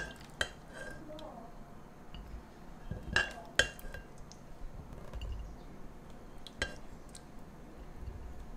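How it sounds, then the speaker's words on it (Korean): Finished soy sauce braised quail eggs being dished onto a plate: scattered clinks and knocks of utensils against dishes, a few sharper taps standing out over faint background noise, with no speech. "완성된 요리를 접시에 담아 볼게요."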